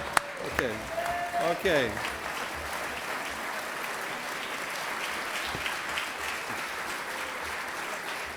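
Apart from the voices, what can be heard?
audience applause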